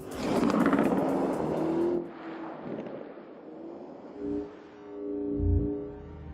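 Lamborghini Urus SUV engine while driving, a broad loud roar with wind rush that drops after two seconds into a quieter run with a deep rumbling swell near the end, no talking.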